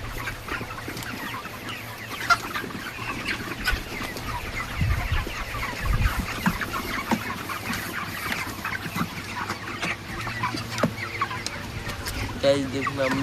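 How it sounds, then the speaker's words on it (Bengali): Grown farm chickens clucking in their pen, a busy chorus of overlapping clucks and short calls close by, continuous with low background hum and occasional voices. "গাইস, দেখুন আমাদের মুরগিগুলো"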